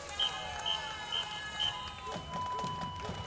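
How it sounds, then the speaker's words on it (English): A whistle ahead of a marching band in the Garden Grove Strawberry Festival parade, four short, shrill blasts at an even pace followed by a longer tone, over crowd and street noise. "that's the sound of a whistle preceding a marching band"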